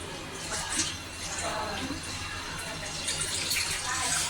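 Water pours into a pot of crab curry cooking at a boil, a steady close gushing splash that lasts throughout at a fairly even level.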